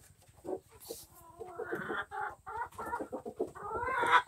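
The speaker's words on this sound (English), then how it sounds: "Chicken" A hen broods over a nest of Easter Egger and Ameraucana eggs, giving a run of soft, low clucks and murmurs up close, steady and rising slightly in intensity toward the end.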